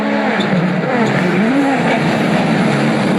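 A WRC rally car passes at speed on a forest stage at Rally Finland 2022, its loud engine roaring steadily close by for a few seconds with a gear-shift wail, and no talking over it.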